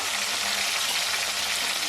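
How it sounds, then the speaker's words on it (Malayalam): A loud, steady hiss of hot oil sizzling as salt water is poured in while frying banana chips, a dense spattering, crackling noise that keeps going for the whole moment. "ഉപ്പ് വെള്ളം ഒഴിക്കുമ്പോഴത്തേക്കും കുറച്ച് പൊട്ടിത്തെറിക്കുന്ന ഒച്ചയൊക്കെ കേൾക്കാം"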